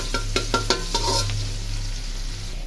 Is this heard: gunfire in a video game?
no